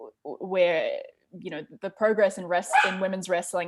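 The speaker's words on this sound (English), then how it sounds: "that's my dog barking in the background" A dog barks and yips in the background, small and intermittent, beneath someone talking steadily in an interview.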